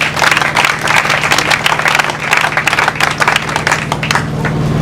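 A congregation at a funeral mass bursts into sustained applause, dense rapid clapping filling the room for the whole stretch with a faint low hum underneath.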